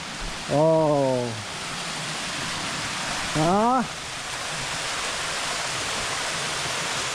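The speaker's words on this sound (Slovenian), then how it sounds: "Kakšen slap je tole." The Istup waterfall rushes in a steady, loud, broadband roar that fills the whole scene, with two short tonal calls or voices briefly rising over the constant water noise.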